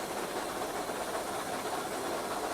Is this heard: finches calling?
no